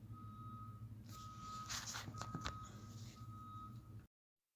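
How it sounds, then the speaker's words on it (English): A steady electronic reversing beep from a truck backing up, sounding at regular intervals at moderate distance under a constant low rumble of traffic. "Fucking truck's backing up."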